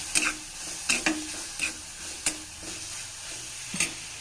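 Tomato with half a spoon of turmeric powder is stirred in a pan, a spoon scraping and tapping in uneven strokes about every half second over a quiet, low sizzle, nearby with no voices.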